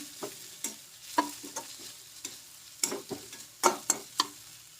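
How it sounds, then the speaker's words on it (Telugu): Rava dosa batter with freshly added coriander leaves is stirred with a spoon in a bowl, giving a series of sharp, close scraping and clinking strokes in an uneven rhythm, alone with no talking. "ఇప్పుడు కొత్తిమీరను వేసి బాగా కలుపుకుందాం"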